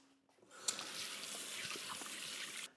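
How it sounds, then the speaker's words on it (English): Hands are washed under a running kitchen tap, a quiet steady rush of water lasting about two seconds that starts and stops abruptly. "I'm just going to wash my hands"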